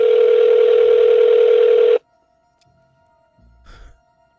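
A telephone line tone in a 1990 film, a loud steady electronic tone lasting about two seconds and then cutting off abruptly, followed by near silence and a faint brief noise.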